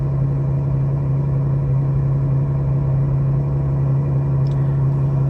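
A Ferrari fitted with a custom titanium exhaust idles at cold start, a steady, loud low droning hum with constant rumble and no change in pitch, close by and uninterrupted.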